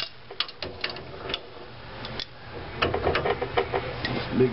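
Metal wrenches clicking and tapping while tightening a Hyperpro shock mount on a motorcycle, a close run of quick, uneven ticks and scrapes.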